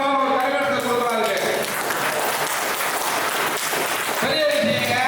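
Steady, loud applause from a large audience at an all-India traditional Siddha medicine practitioners' conference in Vadalur, a continuous dense clapping wash with voices audible at the start and end.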